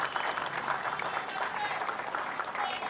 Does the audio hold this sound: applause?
yes